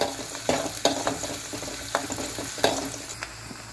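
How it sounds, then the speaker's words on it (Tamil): Sliced onions and curry leaves sauté in hot oil in a pan for a Tamil tomato kulambu, a soft continuous sizzle broken by several sharp clicks and scrapes of a stirring spoon, close and fairly quiet. "கூடமா கொஞ்சம் கருவேப்பிலை. வெங்காயத்தை கொஞ்ச நேரம் வதக்கி விடுங்க போதும்"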